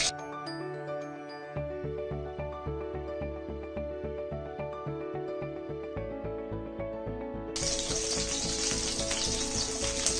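Cauliflower pieces fry in a pan of oil, a steady close sizzle with rhythmic stirring scrapes that grows brighter and louder toward the end.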